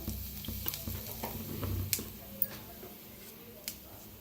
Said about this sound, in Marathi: आता मिरच्या जरा भाजून घेऊया